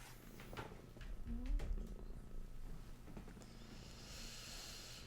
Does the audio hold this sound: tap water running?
no